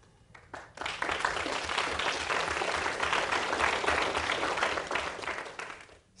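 Conference attendees at an education technology event break into a full round of applause, starting with a few claps and swelling into dense, steady clapping that holds strong to the end.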